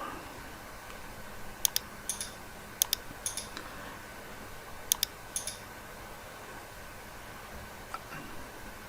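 Mouse clicks sound in Windows Server Manager on a computer: faint, crisp clicks, mostly in quick pairs, spaced a second or so apart against a quiet background hiss.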